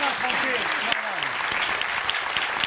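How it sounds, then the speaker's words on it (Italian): Steady, dense audience applause fills the whole stretch at a live quiz-style show, with a voice speaking over the clapping. "C'est bien d'applaudir"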